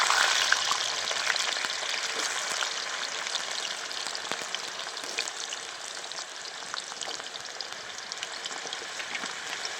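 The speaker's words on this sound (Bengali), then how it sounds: "সবার আগে গোল আলু আর রাঙালুটা আমি ভেজে নিচ্ছি, কারণ এগুলো সেদ্ধ হতে দেরি হয়।" Potatoes and sweet potatoes fry in hot oil with a dense, even crackling sizzle that stays close and steady throughout and fades slightly toward the end.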